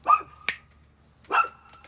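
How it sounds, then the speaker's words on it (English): A pet dog gives two sharp, close barks about a second apart, with a short click between them in an otherwise quiet room. "now my dog's gonna bark"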